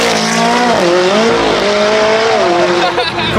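A car revs and accelerates hard at a car meet, its loud engine note rising and falling in pitch over several gear pulls, close by with crowd noise and voices underneath.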